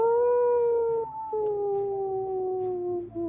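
A single wolf howl played as a sound effect during a tabletop roleplay session, one loud, sustained, mournful wavering call that holds steady pitch for a few seconds, heard alone without talk.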